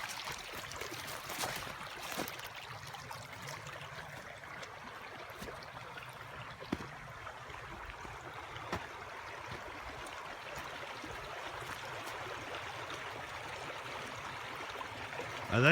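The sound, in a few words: water flowing through a blown-out beaver dam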